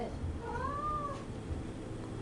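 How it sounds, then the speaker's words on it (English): A cat lets out a single clear, rising-and-falling meow, moderately close over a low background hum. "that's the cat meowing"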